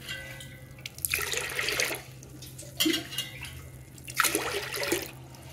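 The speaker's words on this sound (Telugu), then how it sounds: "రవ్వను కూడా వాటర్ పోసుకొని నానబెట్టేసుకున్నామండి." Water is poured over rava (semolina) set to soak for idli batter, in three separate splashing bursts with quieter pauses between them, close and fairly loud.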